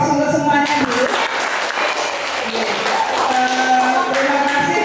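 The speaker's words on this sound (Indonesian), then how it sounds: "Aplaus untuk semuanya dulu." A room of colleagues applauding after a group presentation: a dense, continuous wash of clapping that holds steady throughout, with some voices mixed in.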